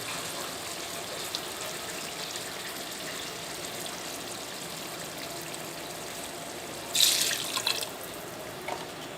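Water is poured into browned mutton curry to make gravy, a soft steady trickle near the pot that swells into a brief louder splash toward the end.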